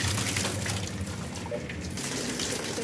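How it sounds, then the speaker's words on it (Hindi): Water runs steadily from a tap while something is washed, a close, continuous gushing and splashing with no talk. "शुक्र अल्लाह का लगता है पानी भी आ गया, अब मैं इसको धोने लगी हूँ मुकम्मल"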